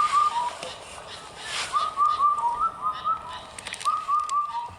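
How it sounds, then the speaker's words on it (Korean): An Indian cuckoo's clear whistled call repeats in short falling phrases of several notes, ringing out over a soft forest background. "음계로 치면 미미미도를 반복하는 금은등 뻐꾸기라는 새입니다"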